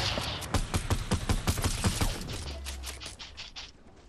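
Rapid bursts of gunfire crack out in a steady, close rhythm during a video game squad match, thinning toward the end with scattered shots and mechanical clatter.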